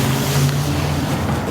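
A car drives through water and throws a brief, loud rushing splash, with a low engine hum under the surge of water.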